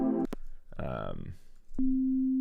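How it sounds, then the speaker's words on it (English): A steady, pure electronic sine-wave tone from the Serum synthesizer holds alone at the end, following a short burst of speech-like sound at the start. "Yep, just a basic sine wave."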